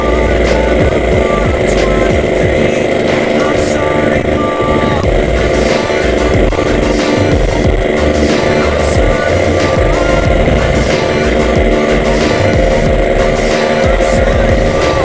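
A loud, continuous Yamaha RX-King motorcycle engine drones steadily while riding on a damaged road, with constant road and wind rumble and no clear breaks.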